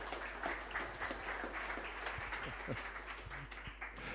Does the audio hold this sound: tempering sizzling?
no